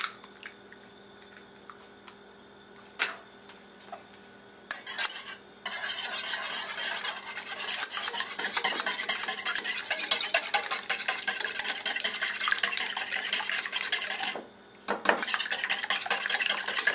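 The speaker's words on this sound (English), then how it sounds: "In a separate bowl, you're going to want to slightly beat 2 eggs." Two eggs are beaten in a bowl: after a few light clinks, a fork whisks in fast, continuous, close-up rhythmic clatter for about ten seconds, pauses briefly, then resumes.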